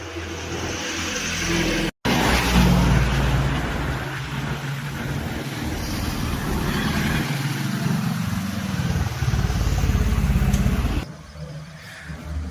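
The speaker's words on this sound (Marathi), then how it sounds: "गाडी आहे मारुती सुजुकीची स्विफ्ट" A Maruti Suzuki Swift drives along the Kurduwadi bypass, its engine and tyre roar forming a steady, loud road drone throughout, with a brief cut early on and a quieter cabin hum near the end.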